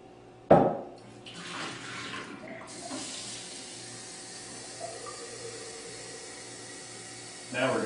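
Water runs steadily into a bathtub during a chlorine and water filter demonstration, opening with a sharp knock and then a continuous, moderately loud rush that ends in another brief clatter.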